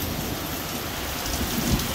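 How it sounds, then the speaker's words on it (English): Heavy rain pours down in a steady, dense hiss, drumming on surfaces with no break. "it's raining like a motherfucker."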